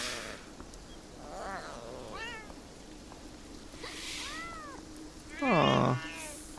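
Alley cats in the video game Beyond Eyes give several separate meows over rain-like background noise. The calls are varied and hostile, and the last one is a loud, drawn-out caterwaul close by.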